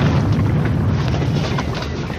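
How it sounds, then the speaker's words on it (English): A cannon fired from the Chateau d'If lands as a deep, rumbling boom that rolls on for a couple of seconds, loud and heavy with a low, dense roar and no voices. "The cannon of Chateau d'If."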